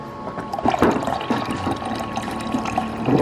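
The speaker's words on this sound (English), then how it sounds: "So I'm gonna do 4 ounces of concentrate and 4 ounces of water." Coffee concentrate and water pour into a cup in a home kitchen, a steady close liquid splash with small gurgling variations throughout, without talk.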